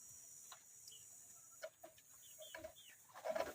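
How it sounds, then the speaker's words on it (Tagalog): Pet chickens in a rural backyard give soft, scattered clucks and short calls, quiet and fairly close, growing a little busier toward the end over a low hiss. "ito po yung ating mga alagang manok."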